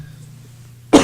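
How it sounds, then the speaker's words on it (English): A single sharp cough from a presenter at a green building festival talk, loud and close, after a near-silent pause. "this cough is just killing me."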